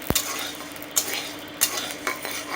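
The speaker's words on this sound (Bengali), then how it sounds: "এরকম করে চাল ভেজে প্রতি বছর চাল ভেজে ভোদুয়া বানাবো" Rice is dry-roasted in a pan for village-style bhoduya prasad, the offering for Vishwakarma puja. Irregular scraping stirs and clinks of the utensil sound over a soft, constant sizzle, nearby and with no talking.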